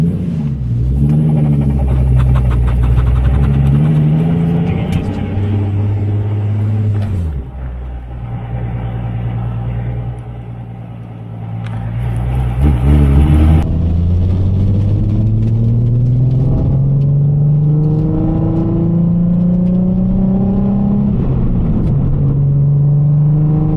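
A Nissan 350Z with a swapped VHR engine pulls hard through the gears, its loud, close engine note climbing smoothly with each rise, easing between shifts, then building again.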